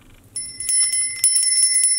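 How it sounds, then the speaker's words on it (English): A small bell rings with a bright, sustained metallic tone, struck repeatedly in quick succession, close and clear with no talking. "Here's the bell."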